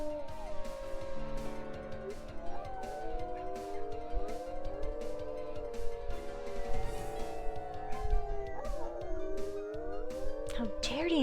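A pack of wolves in the video game WolfQuest howls at a pack rally, many voices rising and bending in long overlapping howls with scattered yips and sharp clicks, steady and loud throughout.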